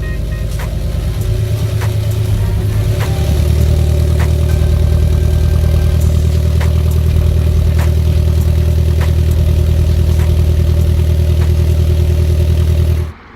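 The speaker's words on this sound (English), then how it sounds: "Here is the cold start." Subaru BRZ with a 1320 Performance dual resonated front pipe cold-starts, catching on the starter and then settling into a loud, steady, rumbling idle that holds for about ten seconds before cutting off abruptly.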